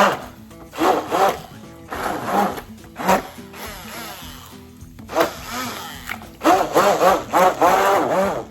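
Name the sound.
blender blending pizza sauce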